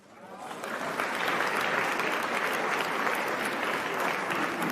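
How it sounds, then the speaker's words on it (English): Audience applause at a speech by the Kenyan president, building quickly into steady, dense clapping that fills the room and holds at full strength to the end. "What you guys are applauding for?"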